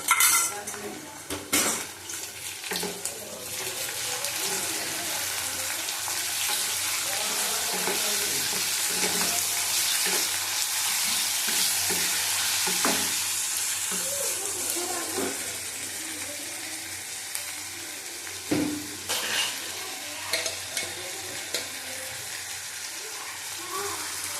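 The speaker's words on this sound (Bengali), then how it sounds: "দেখো পেঁয়াজ কুচিটা ভাজা হয়ে গেছে আমি মাংসটা দিয়ে দেবো মাংসটা চিকেনটা চিকেনটা আগে দেবো" Chicken frying with chopped, browned onions in a pan, a steady sizzle with frequent clinks and scrapes of a spatula on metal throughout.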